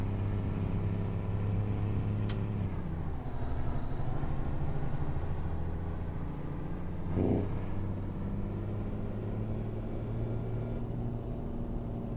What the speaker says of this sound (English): You can hear the transmission, the retarder kick in.